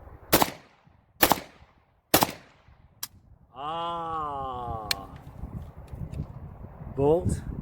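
A 5.45x39 Bulgarian rifle fed from a BHO AC Unity magazine fires three sharp, loud, close shots about a second apart, followed by a person talking.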